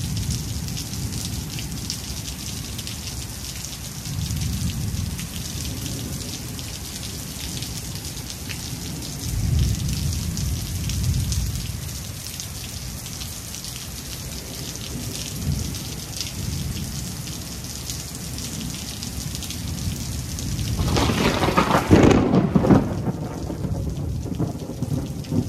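Heavy rain falls steadily through a thunderstorm, with low rumbles of thunder rolling in waves and a loud, close crack of thunder near the end.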